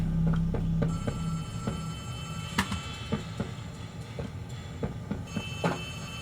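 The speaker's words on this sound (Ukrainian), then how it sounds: "Де тут телефон дзвонить?" A telephone rings inside the horror video game Poppy Playtime Chapter 3, sounding as a series of repeated sharp metallic rings and clatter at moderate volume over a low rumbling background, with no speech.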